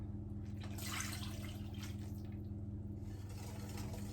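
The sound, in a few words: water being poured into vegan chocolate brownie batter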